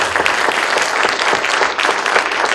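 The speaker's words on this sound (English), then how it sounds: "probably deserves a round of applause for that" An audience at a science talk introduction gives a steady round of applause, many hands clapping together in a dense, continuous patter heard from within the hall.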